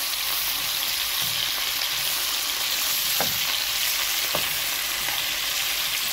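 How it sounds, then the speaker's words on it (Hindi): Butter chicken tikka pieces fry in a pan with a steady, close sizzle, broken by a couple of brief clinks as the pieces are turned. "ये देखें एक साइड से ये तैयार हो गए बन गए फ्राई हो गए और अब दूसरी साइड से पलट दिया"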